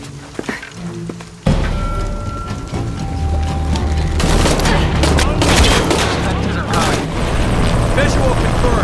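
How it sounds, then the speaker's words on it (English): Sustained bursts of rifle gunfire and booming explosions fill a combat scene in the video game Shadow of the Tomb Raider, loud and continuous after a quieter opening, with radio voices talking over it. "Need to confirm reports of more gunfire."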